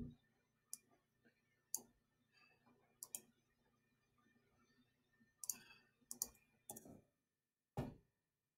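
Scattered clicks of typing on a Microsoft Surface keyboard, sparse isolated taps followed by a quicker cluster of keystrokes, close and crisp in a quiet room.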